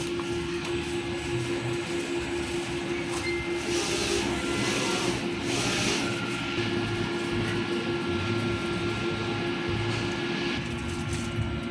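A printer runs a nozzle check right after a head cleaning, giving a steady mechanical hum with a constant tone and faint rattling that carries on without a break for the whole stretch.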